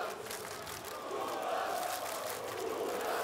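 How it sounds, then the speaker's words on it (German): A big outdoor festival crowd at a rock concert at Hurricane Festival cheers and claps, a broad wash of shouting and applause that swells slightly and holds steadily throughout. "An der Stelle riesengroßen Applaus für die Seekuhs"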